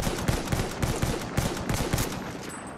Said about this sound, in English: Why aren't my bullets hitting him?